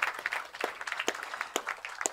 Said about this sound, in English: That certainly is getting a round of applause there.